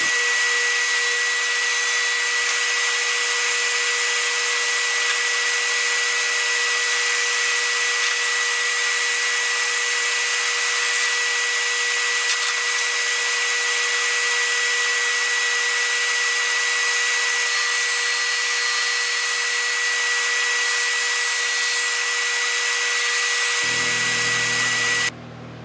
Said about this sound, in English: now I'm going to run them through my Performax drum sander to get rid of the resaw fumes